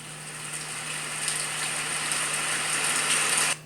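Steady broadband hiss of synthetic rain from a Hatch Baby Rest sound machine, even and continuous with a faint low hum underneath, stopping abruptly near the end.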